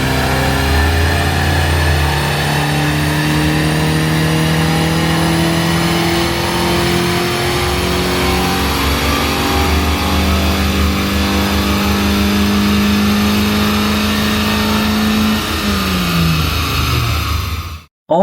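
An old car strapped to a chassis dynamometer with cooling fans and a new exhaust, engine held at full load as revs climb steadily for about fifteen seconds. The loud, continuous roar then drops sharply and cuts off at the end.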